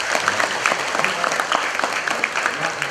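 Dense audience applause in a large gathering of prospective migrant workers, continuous and fairly loud with a crowd murmur beneath it.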